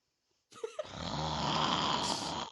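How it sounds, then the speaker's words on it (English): A loud snore starts after a brief quiet moment, a single long, rasping inhale that swells and holds steadily to the end, heard alone with no talk. "You hear a loud snore."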